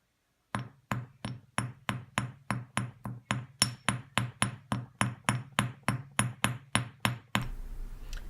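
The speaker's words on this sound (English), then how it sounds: "Just gently hammer that." Steady, evenly spaced hammer strikes on jewelry wire, about twenty-five sharp taps in a row, close and clear, then a brief burst of hiss at the end.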